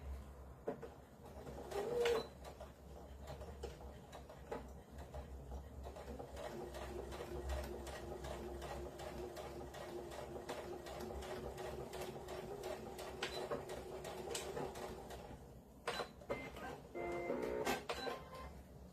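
A domestic sewing machine top stitches a glasses pod, a steady mid-distance whir broken by short pauses, with birds cooing faintly in the background.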